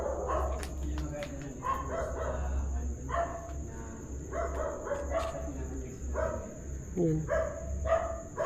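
Several dogs bark and yip repeatedly in the background, a steady low hum running underneath while a person talks over them.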